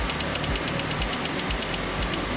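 An Audi TT engine idles roughly, a loud, close, continuous hum carrying an uneven low throb and a steady rapid ticking pulse.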